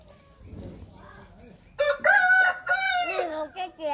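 A chicken clucks softly, then a rooster crows loudly and close by in two long, drawn-out calls that end in shorter cackling notes.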